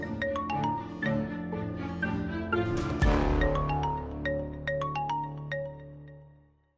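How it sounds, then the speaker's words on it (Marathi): A mobile phone plays a bright, melodic electronic ringtone in repeating phrases, loud and close with no voices, before it cuts off near the end. "पण क्लायंटचा पण फोन असू शकतो"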